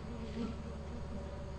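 A swarm of bees buzzes in the video game Lethal Company, a steady, close, droning hum that fills the moment without pause and with no talk over it.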